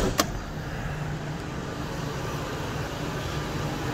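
A 2001 Ford F150 SuperCab XLT pickup with a 5.4 V8 idles steadily, a constant low rumble heard from close by, with one brief click near the start.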